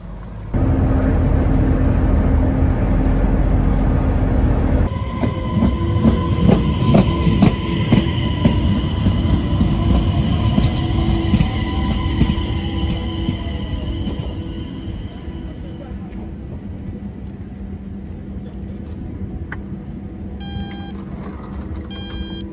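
Inside a moving train in Sweden, a loud rumbling ride with rattling and clacking over the rails, the noise later easing down, and a few short electronic beeps near the end.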